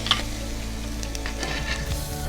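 Shrimp sear in a hot pan, cooked in batches for cacio e pepe style shrimp, giving a steady close sizzle with faint crackles throughout and no talking.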